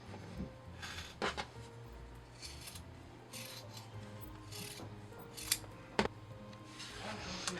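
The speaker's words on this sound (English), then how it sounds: "now we're going to cut close to this line" Scissors snip through fabric close to a seam line while trimming a doll's head piece, a series of quiet, irregular close-up cuts and rubbing sounds.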